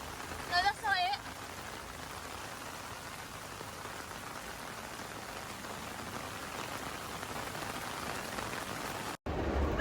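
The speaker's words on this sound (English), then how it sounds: "which meant to run through the rain" Heavy monsoon rain pours down in Pattaya, Thailand, a dense, steady hiss of drops hitting surfaces close by, with a brief voice near the start.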